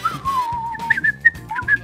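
Whistling in a video game: a short wandering tune up close, the pitch sliding and fluttering, with a soft rhythmic beat underneath.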